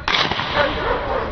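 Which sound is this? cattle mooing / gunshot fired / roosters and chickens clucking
gunshot fired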